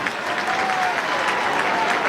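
A stadium crowd at an AFL football match between Melbourne and Brisbane applauds loudly, with steady, dense clapping that fills the whole stretch and a faint murmur of voices behind it.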